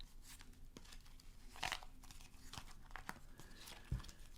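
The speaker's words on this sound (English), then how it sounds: "So let's start by shuffling the deck." Soft papery riffling and snapping of a tarot deck being shuffled, irregular bursts with a few sharper slaps, quiet and close.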